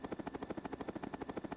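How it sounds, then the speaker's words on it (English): A rapid, steady chopping pulse like helicopter rotor blades, synthesized with Strudel code, even in rhythm, about a dozen beats per second with no voices. "we got a helicopter noise"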